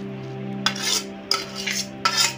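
A spoon scrapes and stirs grated raw mango in a pan, three distinct scraping strokes in a steady rhythm against a low background hum, close and fairly quiet.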